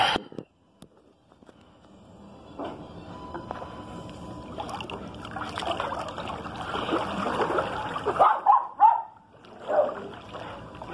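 A dog barks a few times near the end, after a long stretch of faint rumbling background by a backyard pool.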